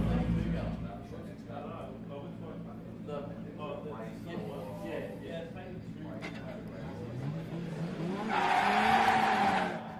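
Drift cars at a South Australian state series drifting event, engines rising and tires squealing in a loud burst near the end, after a stretch of commentary over a steady engine rumble.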